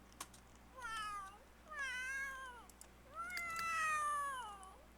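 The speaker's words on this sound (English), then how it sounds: "Look at this cat." A cat in a life-simulation video game meows three times in a row, each call rising and falling, clear and close over a quiet steady hum.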